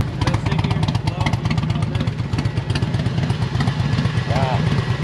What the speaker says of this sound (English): This bike sits here the whole day, just idling